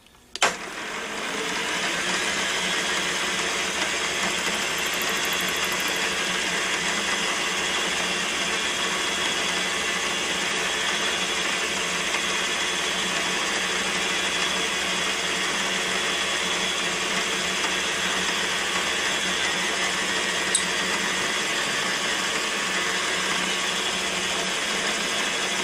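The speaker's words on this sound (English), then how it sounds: "I've mounted a wiggler up here in the milling machine" A milling machine running with a wiggler mounted in the spindle, a steady loud motor whine and hum that holds evenly throughout after starting up, with a faint click near the end and no talking.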